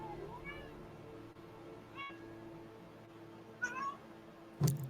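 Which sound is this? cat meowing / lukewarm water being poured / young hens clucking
cat meowing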